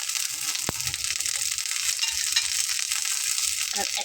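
Shrimp, chopped onion, garlic and green chilies frying together in a pan, a dense continuous sizzle with one sharp clack of a utensil early and light stirring scrapes, heard up close.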